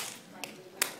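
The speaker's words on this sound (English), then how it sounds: "Now, next time, you're going to clap with me." Two sharp hand claps spaced a little under half a second apart, close and crisp over a quiet background with faint voice-like murmur.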